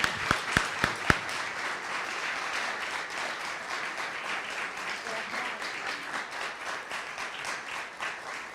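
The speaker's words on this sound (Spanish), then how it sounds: "Y quisiera pedirle a todos un aplauso para Paula y para Mayra." A lecture-hall audience breaks into applause in honour of writer Mayra Santos, starting with a few sharp claps and then settling into a dense, even roar of many hands that goes on for several seconds.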